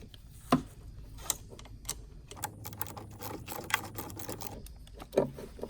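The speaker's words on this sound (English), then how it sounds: "I'm using my 10mm socket." Ratcheting 10mm socket wrench loosening a battery cable nut on a Ford Focus, giving a series of faint, close clicks and ticks with a few sharper metallic taps, quiet throughout.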